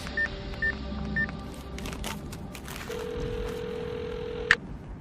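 A telephone number is punched in as a quick series of dialing tones, followed by a steady tone and a brief sharp click at the end, with no talking.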